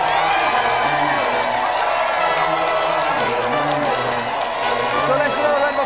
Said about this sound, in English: So let's do another round of applause then, please, for Julian, Michael and Aggie.